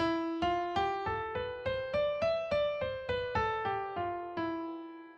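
Phrygian mode scale played on a small keyboard, an octave of evenly spaced single notes rising and then falling back down, clear and close.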